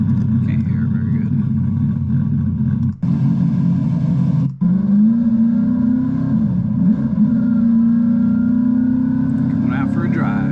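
A Ford Thunderbird race car drives with a loud, deep engine rumble and a rising tone, broken by two short dropouts that sound like gear changes. It is heard from close by.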